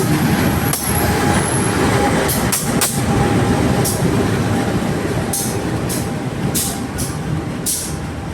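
Riding aboard the Senja Utama Solo passenger train hauled by a CC 201 diesel locomotive, with a continuous loud rumble of rolling wheels and regular rhythmic clacks over rail joints heard from inside the carriage.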